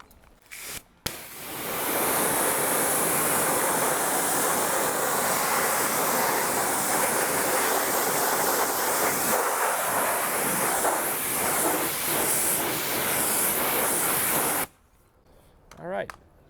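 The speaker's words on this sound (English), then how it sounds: "we're going to go in there with the pressure washer, and we're going to get a good rinse" A pressure washer blasts a car wheel on a matte green Mercedes-AMG GT R, a loud, continuous hissing spray that starts abruptly, holds for about twelve seconds and then cuts off.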